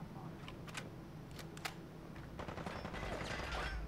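Gunfire in a modded Fallout 4 on Xbox, a few scattered sharp shots early, then a denser, rattling burst toward the end, fairly faint against background game noise.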